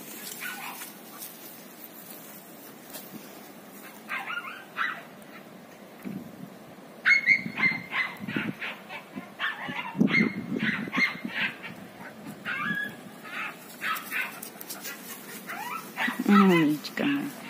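Jagdterrier dog during retrieve training, giving intermittent whimpers and small yips at close range while a person keeps talking throughout.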